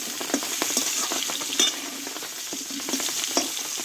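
Potatoes and vegetable stalks stir-fried in a pan without spices for a Bengali vegetarian curry: a steady close sizzle broken by scraping stirs and a few sharper clinks of the spatula.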